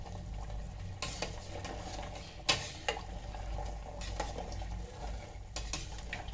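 Paneer cubes fry in oil inside an electric kettle, a low steady sizzle broken by several scraping, clattering bursts as the cubes are flipped, heard close with no voices.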